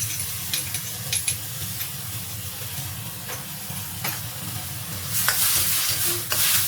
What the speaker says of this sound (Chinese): 加1勺水，继续翻炒。